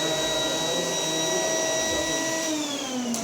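A vacuum cleaner with a power nozzle runs steadily, a loud continuous motor whine with a high tonal hum that holds throughout, pitch dipping slightly near the end, with no talking.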